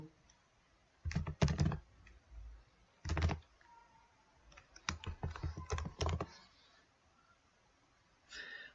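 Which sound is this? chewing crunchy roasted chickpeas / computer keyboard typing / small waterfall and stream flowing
computer keyboard typing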